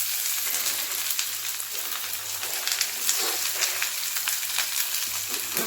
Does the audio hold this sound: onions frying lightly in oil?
yes